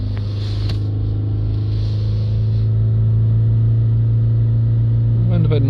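A BMW 525d diesel engine held at a steady 3000 RPM, a loud continuous mid-pitched drone with strong low rumble that stays even throughout, with a brief change near the end.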